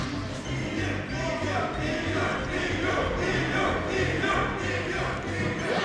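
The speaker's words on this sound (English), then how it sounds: "Crowd coming in with the EU chants." Esports tournament crowd at a Super Smash Bros. Melee event chanting EU chants, a dense, steady roar of many voices with rhythmic pulsing chant beats throughout, loud and continuous.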